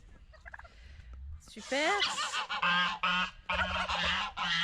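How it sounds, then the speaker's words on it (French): A strutting turkey gobbles in a display, loud and close, with repeated rapid rattling calls that follow a quieter start and a brief spoken word. "Là, vous avez droit à la parade du dindon."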